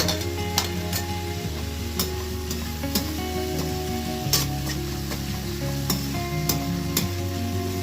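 Coriander leaves, ginger and green chilies sauté in a pan with a continuous close sizzle. Sharp clicks and scrapes of a spoon against the pan punctuate it every second or so, and no one speaks.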